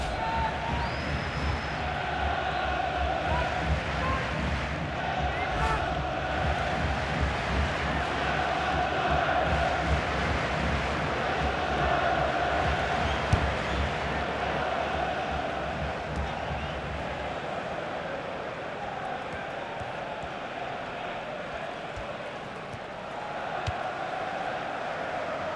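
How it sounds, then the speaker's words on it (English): Stadium crowd noise in the football game FIFA during a women's friendly between New Zealand and South Korea, a continuous swelling roar beneath commentators talking, easing off toward the end. "The crowd's reaction says it all, Clive, because that's a poor effort"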